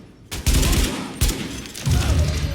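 A flashbang grenade goes off loudly in The Division, a sharp blast followed by a dense, rumbling crackle of gunfire-like noise that fills the whole moment.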